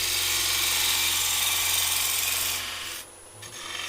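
A blunt bowl gouge cuts a flared-rim wooden bowl on a lathe, making a loud, continuous rasping scrape that eases off and drops lower near the end.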